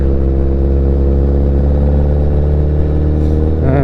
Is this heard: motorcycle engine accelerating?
yes